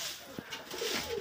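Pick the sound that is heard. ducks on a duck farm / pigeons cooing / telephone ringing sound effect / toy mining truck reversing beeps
pigeons cooing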